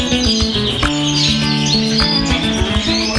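Many canaries at a canary breeding house chirp and trill at once, a loud, dense, unbroken chorus of overlapping songs filling the whole stretch with no voices.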